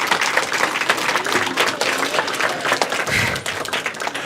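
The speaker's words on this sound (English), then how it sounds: "one more round of applause for all of you for all the great work you've been doing this year on space" Round of applause for a Scout group at an event tied to a space station radio contact, continuous clapping from a modest crowd, fairly close and steady, with some voice murmur underneath.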